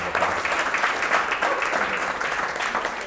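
Audience applause fills a sales community event in New York, a steady, dense crowd of clapping that holds at an even level from start to finish with no talking.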